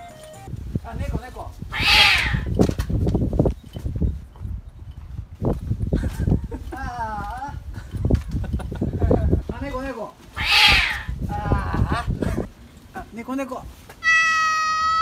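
A cat meows a few times, short rising cries between stretches of people talking nearby on Nawate Street in Matsumoto, Japan.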